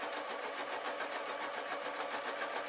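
A double needle sewing machine runs steadily on a fabric strap for a sarong, a fast even rhythmic whir with regular pulses, close and continuous, with no talking.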